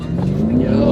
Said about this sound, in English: I tried to do burnout, it didn't work.